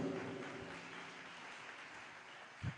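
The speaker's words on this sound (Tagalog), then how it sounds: "Ibigay ang palakpak na para sa Diyos." Scattered applause from a church congregation during a Filipino preaching service, a soft, steady patter of many hands that continues throughout, with a brief louder thump near the end.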